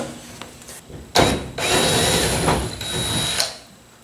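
A power drill whirs in short bursts as it backs screws out of a panel on a chopped-top Ford Ranger, with a brief trigger pull followed by a longer run and a clattering tail.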